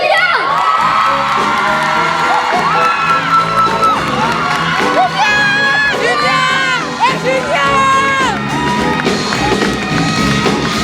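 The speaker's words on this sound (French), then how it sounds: "un tonnerre d'applaudissements pour Julien" Audience at a choir recital bursts into loud, continuous applause and cheering with whoops and shouts, a dense crowd roar filling the whole stretch.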